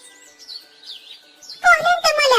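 A migratory bird in spring sings a string of light chirps and trills, followed by a louder, richer burst of warbling song close by.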